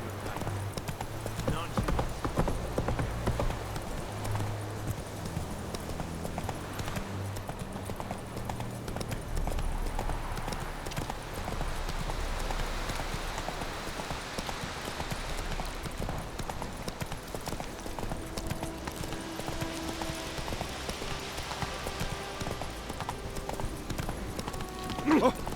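Hooves of the horse Roach galloping in The Witcher 3, a steady rapid clip-clop running continuously beneath game music and occasional spoken dialogue.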